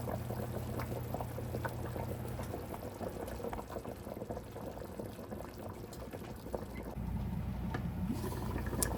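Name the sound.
dumplings being added to a pot of Jamaican pumpkin beef soup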